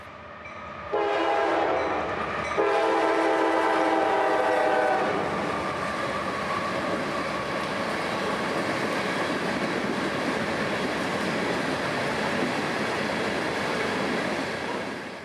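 CSX grain train at a wooded crossing, horn blaring loudly for several seconds as it arrives, then a long, steady roar of wheels and rolling grain cars passing close.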